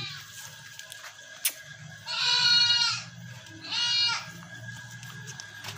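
A Rajanpuri goat bleats twice, loud and close, each call lasting about a second, over a low background hum.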